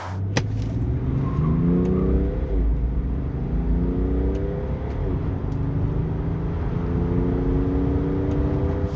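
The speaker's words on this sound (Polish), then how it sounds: "Aktualne przyspieszenie do setki, proszę bardzo" A 2008 BMW 530d E60 diesel, Stage 2 tuned, revs hard and accelerates to 100 km/h, pitch climbing through several gear shifts in a steady, loud, continuous drone.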